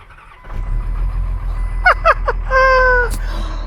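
A car engine cranks and catches after its dead battery was charged with a welder, the starter whirring briefly before the engine fires and settles into a loud, close idle.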